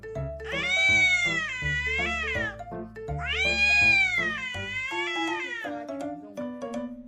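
Several tiny kittens meow in high, repeated calls while playing beside a man fixing a car tire, two long sustained bursts followed by softer, shorter mews, close and fairly loud.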